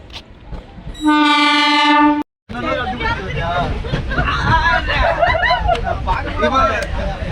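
A train horn sounds one long, loud blast, then a crowd chatters noisily over the rumble of the passing train.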